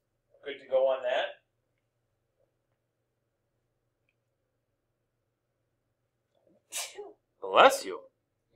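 A single quiet sneeze near the start of a math lesson, followed by a long silence and then another short burst of breathy vocal sound.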